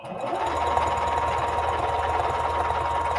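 Close, loud and continuous whirring of a sewing machine back stitching through two fabric layers while turning a skirt into palazzo pants, a steady rapid needle rhythm running throughout.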